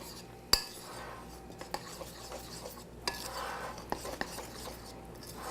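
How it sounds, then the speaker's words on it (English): Spoon stirring Bisquick baking mix and two-thirds cup of milk in a mixing bowl for biscuits, a soft, steady scraping under quiet room tone with a few small clinks against the bowl. "We're gonna put 2/3 of a cup of milk, and we're gonna stir."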